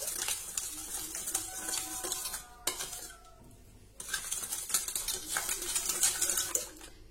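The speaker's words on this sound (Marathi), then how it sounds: "आता हे मिक्स करूया, चमच्याने अगदी व्यवस्थित हे फेटून घ्या," Spoon clinking and scraping in a bowl while whisking curd (yogurt) with salt, a steady run of quick metallic taps that pauses briefly midway, then resumes at close range with no talk.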